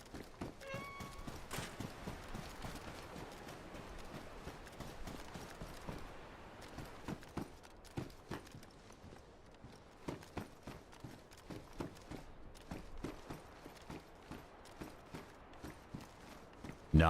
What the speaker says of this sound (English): the footsteps on the snow isn't loud anymore